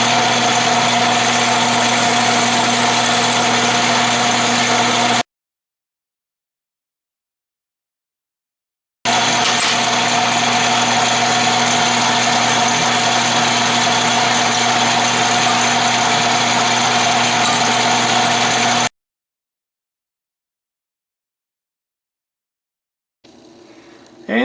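Steady mechanical drone of a 12-inch Atlas Craftsman lathe drilling a workpiece, loud and even in two long runs separated by silence, with a brief restart at the end.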